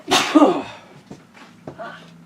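A single sharp sneeze bursts out loudly at the start, followed by a few faint clicks and small noises in a quiet room.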